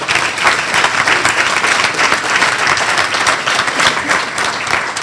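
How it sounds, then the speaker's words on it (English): Guests at a leadership awards gathering clap for an honoree, a full, even burst of applause that stays loud and unbroken throughout. "Let's give her one more round of applause"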